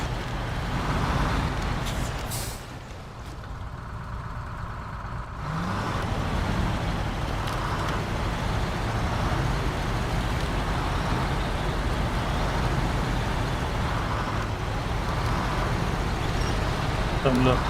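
A truck in SnowRunner, driving through the Black River area of Michigan, gives a steady, loud engine drone with rolling rumble. A voice talks over it for much of the time.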